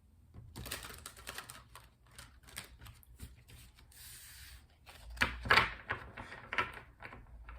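A deck of tarot cards being shuffled, heard as irregular bursts of crisp papery rustling and flicking that swell and fade over several seconds, close and fairly quiet, with no voices.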